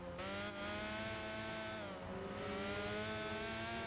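A steady, droning car engine from the Gran Turismo 5 racing game holds a constant pitch with faint shifts, loud and close throughout with no talking.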